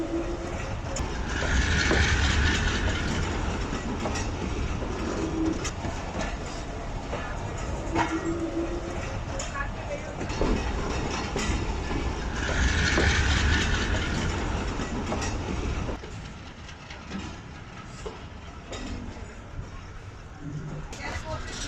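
The 44 Down Shah Hussain Express runs along the rails with a steady, loud rumble and rhythmic clatter, close by, while people talk over it throughout.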